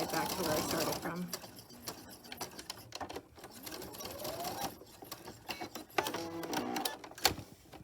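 A sewing machine stitches short bursts around the edge of a small rosemary and balsam fir herb sachet, pausing to pivot at corners, close by with someone talking over it.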